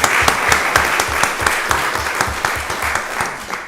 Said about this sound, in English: That's another round of applause right there.